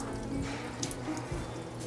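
Water trickles steadily out of a horse-stable filter during cleaning, a continuous close splashing flow like a running tap with low gurgles underneath.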